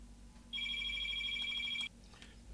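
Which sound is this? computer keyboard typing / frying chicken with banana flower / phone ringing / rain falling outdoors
phone ringing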